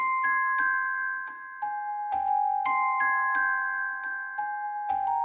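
Bright bell-like celesta notes ring out in a slow, repeating pattern, with a slightly warbly, worn tape-like color from the Guitar Rig 6 Tapeify preset and soft thumps underneath.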